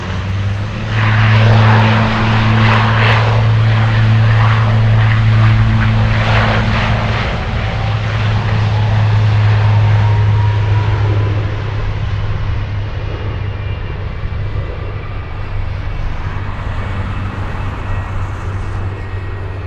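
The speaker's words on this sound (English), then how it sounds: "MD-80 starting up its engine as I shiver" An MD-80 jet airliner's engine spools up in a steady, loud drone with a low tonal hum, heard outdoors at Anchorage with no talk over it.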